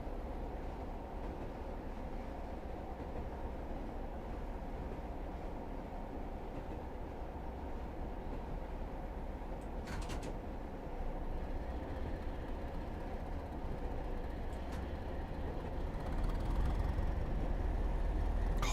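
A Class 205 Thumper diesel multiple unit in Train Simulator runs steadily on the line toward Glasgow, a continuous low engine drone and rail rumble that swells slightly near the end, with no voices.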